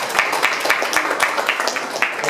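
Audience clapping in an indoor hall, a sparse, uneven patter of hands that keeps up steadily for a couple of seconds without cheering.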